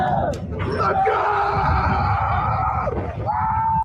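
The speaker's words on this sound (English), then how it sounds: "What if the scream you hear at an amusement park isn't excitement, but Parker" Sustained high screaming and yelling from riders on a high-speed launched roller coaster over New Zealand's Nevis Valley, loud and continuous for several seconds before cutting off.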